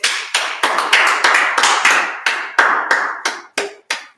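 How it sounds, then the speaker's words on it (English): A history class clapping together in steady slow unison, about fourteen sharp, close claps at an even beat that thin out and space apart toward the end. "All right, so clap it up."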